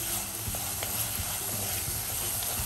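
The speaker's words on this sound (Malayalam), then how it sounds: "തക്കാളി ഇട്ടതിന് ശേഷം നന്നായിട്ടൊന്ന് വഴറ്റി എടുക്കുക." Tomatoes and onions sauté in a pan with a steady close sizzle and soft, irregular stirring sounds throughout.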